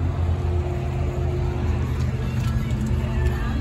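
2014 GMC Sierra All-Terrain pickup truck on a short test ride, a steady interior road and engine hum with low drone and faint road noise, with some indistinct voices in the background.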